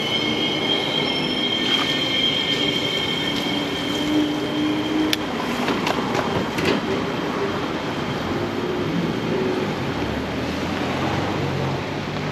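A tram rolls past on its rails, a loud sustained rumble with high metallic wheel squeals and a clattering passage, close by and without speech.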